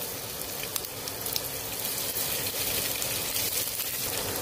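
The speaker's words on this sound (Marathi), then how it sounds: "दोन ते 3 मिनिटं हे परतवून घ्यायचं आहे आपल्याला मिश्रण" A steady, close sizzle of onion, ginger, garlic and green chilli frying in a pan, continuous hissing with a few light clicks of stirring, growing slightly louder midway.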